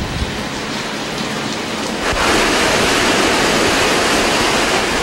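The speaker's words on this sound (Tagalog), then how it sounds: "Magkakambal na lakas ng ulan at hangin ang bumayo sa Baguio City ngayong maghapon." Heavy rain pours down in a steady, loud roar, growing even stronger partway through, with a rushing, wind-driven quality, during a storm in Baguio City, Philippines.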